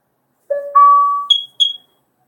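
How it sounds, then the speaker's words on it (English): A carbon monoxide detector alarm sounds during a test: a close, loud sequence of electronic tones stepping upward, followed by two short high-pitched beeps. "Testing carbon monoxide. Looks like it works to me."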